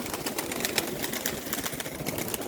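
Pigeons in a farmyard on a windy day give soft rhythmic cooing with light flutters of wings, a steady busy texture close by and without talk.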